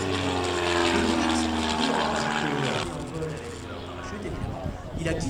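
Propeller aerobatic airplane flying a loop at an air show in Belvès Saint-Pardoux, its engine drone loud and steady, then easing and swelling again as it turns, with a French commentator talking over it throughout.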